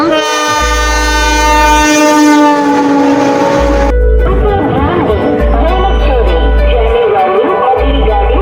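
A train at a busy railway station passes with a loud rumble and a long sustained horn blast, then rolling clatter and station bustle with voices talking nearby.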